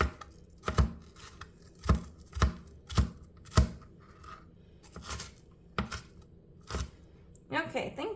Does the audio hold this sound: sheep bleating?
no